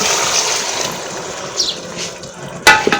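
Chickpea boiling water splashes and pours into a pot of cholay for a few seconds, ending with a brief louder clank.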